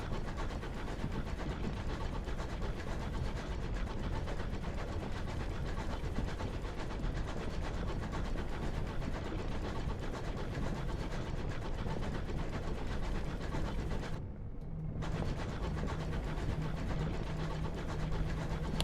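A locomotive engine from the game Sunless Skies drones on steadily and loudly, a dense rumbling hum with faint rhythmic clatter that drops out for a split second near the end before resuming.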